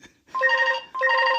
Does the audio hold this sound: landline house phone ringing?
yes